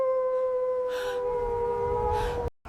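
Wolves howling in a long sustained, steady-pitched wail, with a second fainter howl layered in and gusting wind behind, cutting off abruptly at the end.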